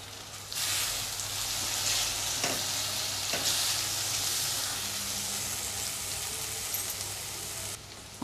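Red chili masala and chopped tomato sizzling and frying in a pan as a spoon stirs and scrapes, a constant loud hiss with occasional sharper scrapes, no talking.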